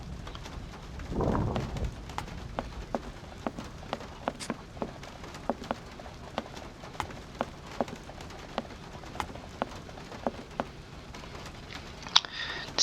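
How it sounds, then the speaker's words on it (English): Rain falls on a roof in the video game Syberia: a steady, soft patter with sharp drip clicks scattered through it and a brief low rumble early on. No voices. "The rain falling on the roof."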